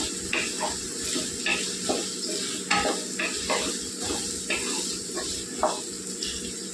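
Potatoes and onions being stirred in a hot frying pan for aloo kurma, with repeated scraping strokes over a steady close sizzle.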